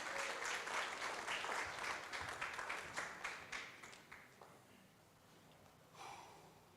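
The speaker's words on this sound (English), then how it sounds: "round of applause, James Stevens" Applause from a crowd at a boxing weigh-in as a fighter is introduced, a burst of clapping that fades steadily over a few seconds, leaving quiet room noise and a brief murmur near the end.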